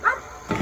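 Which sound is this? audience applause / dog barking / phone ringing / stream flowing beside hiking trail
dog barking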